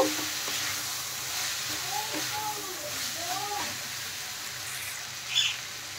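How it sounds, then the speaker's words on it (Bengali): Boiled sweet corn being stirred into fried onion and tomato in a pan, a quiet steady sizzle with scraping stirs and a small clink near the end. "দিয়ে এবার ভালোভাবে নেড়ে চেড়ে মিশিয়ে নেব"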